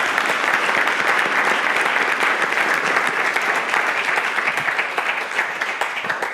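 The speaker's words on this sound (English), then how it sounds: "Please give a warm applause to all of our experts." Dense audience applause after a panel of experts on healthcare AI, robotics and data, steady many-handed clapping that thins slightly near the end.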